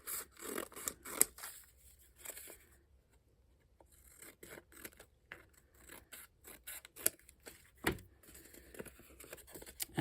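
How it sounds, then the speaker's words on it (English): Scissors snip through fabric while two squares are cut for puff flowers: quiet, close crisp clipping and rustling in irregular bursts, with a short lull midway and no talk. "I'm going to cut 2 squares."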